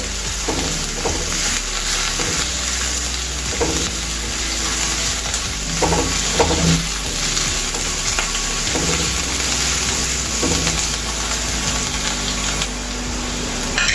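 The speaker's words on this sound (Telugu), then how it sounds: "ఇవన్నీ కూడా వేయించుకోవాలండి. హై ఫ్లేమ్ మీద పెట్టి వేయించుకోవాలి." Vegetables for paneer fried rice stir-fry in a pan over high flame, giving a loud, constant sizzle with repeated clinking and scraping from a spatula throughout.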